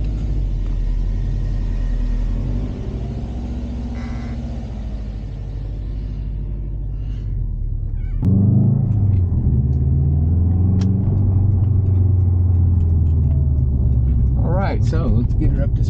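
A car on the road during a test drive after wheel balancing for a vibration problem, a steady engine and tire rumble from inside the cabin that grows louder and heavier partway through, with no talking.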